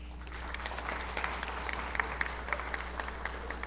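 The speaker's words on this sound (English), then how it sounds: "give yourselves a round of applause." Audience at a college orientation event applauds steadily for several seconds, a dense wash of clapping with scattered sharper claps throughout, moderately near and without talk over it.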